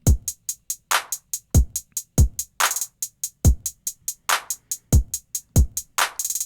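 A programmed hip-hop drum beat pairs punchy booming kicks and sharp claps with steady eighth-note hi-hats, broken by quick buzzing hi-hat rolls, looping loud and clear with no voices.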